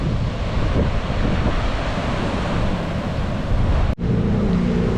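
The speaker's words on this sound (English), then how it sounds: "It is very, very windy here in Sri Lanka, and the waves are very," Steady roar of wind buffeting the microphone over rough, choppy surf at Galle Fort, Sri Lanka, a continuous loud wash with no pauses and one brief dropout.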